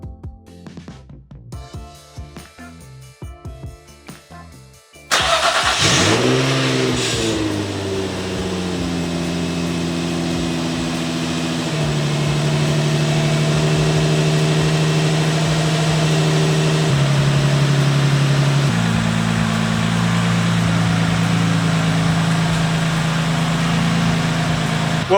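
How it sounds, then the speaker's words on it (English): An Infiniti G35 coupe engine fires up after a few seconds of background noise, briefly flares, then settles into a steady, close idle that holds for the rest of the clip. "as you guys can hear, the G35 is running perfectly"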